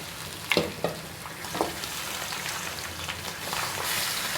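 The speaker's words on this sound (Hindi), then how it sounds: "और अब मैं इसको फ्राई करूँगी इसमें।" Mutton pieces added to browning onions in a pot for karahi gosht, frying with a steady crackling sizzle, a few sharp clatters of stirring or tossing near the start, no voices.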